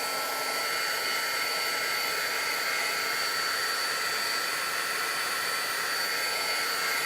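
A heat tool blows steadily on mixed media paint, a constant loud whooshing hiss of hot air that runs unbroken throughout with no talk.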